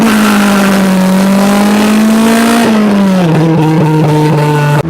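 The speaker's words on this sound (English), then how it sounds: "So this is the first gear from a dead stop." A Honda Civic accelerates hard in first gear from a dead stop. The engine note climbs steadily, then drops sharply at a gear change before rising again. It is loud and close, with no talking.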